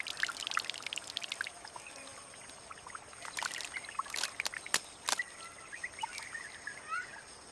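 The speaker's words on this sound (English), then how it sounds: "The rim is growing saturated and begins to drain the water from the woven fibers." Rainwater dripping and trickling from the saturated woven-fiber rim of a Hoatzin nest in the Amazon rainforest, a light, scattered patter of drops that falls at an irregular rhythm over a faint forest background.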